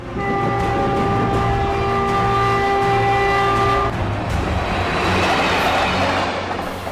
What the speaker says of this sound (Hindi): इन व्यस्ततम पटरियों पर दिन भर अप और डाउन लाइन की ट्रेनें आती जाती रहती है